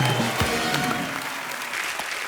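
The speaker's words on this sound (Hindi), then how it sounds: "एक बार मिस्टर मनोज वाजपेयी के लिए जोरदार तालियां हो जाए" Studio audience applause for actor Manoj Bajpayee on a comedy talk show, a dense, steady wash of clapping that fills the whole short stretch at even loudness.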